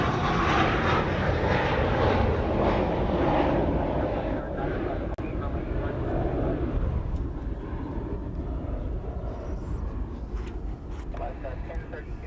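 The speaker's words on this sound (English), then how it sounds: "this is our Honolulu plane of the day, UPS, heading off to Sydney" A UPS cargo jet departing Honolulu airport for Sydney, a loud, sustained engine roar that fades slowly as the aircraft climbs away, with people talking over it.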